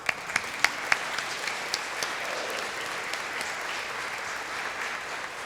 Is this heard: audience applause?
yes